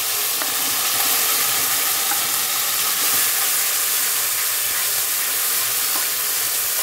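Onion-garlic paste frying with softened tomatoes in a pan, a steady dense sizzle and hiss throughout with faint stirring, no voices.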